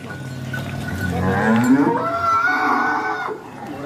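A cow moos loudly and close by on a Sialkot farm where a young female calf stands near her. It is one long, drawn-out, rising call that lasts most of the moment, with no talking.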